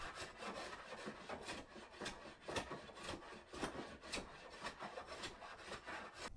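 A hand plane works around a joint on a rough-cut walnut board for a charcuterie board, giving steady overlapping rasping strokes, close and fairly loud, with no talk.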